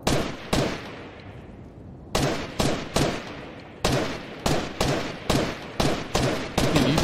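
Gunfire in the video game Fortnite: a string of sharp single shots at an uneven pace, a brief pause after the first pair, then steady repeated cracks, loud and close with no talking.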